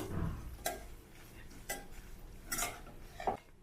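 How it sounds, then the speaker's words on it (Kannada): A spoon stirs North Karnataka style sprouted moth bean curry with coriander in a pan, the heat switched off. It gives a few light, evenly spaced metallic clinks and scrapes, close and fairly quiet. "ಕೊತ್ತಂಬರಿ ಹಾಕಿ ಚೆನ್ನಾಗಿ ಮಿಕ್ಸ್ ಮಾಡ್ಕೋಬೇಕು"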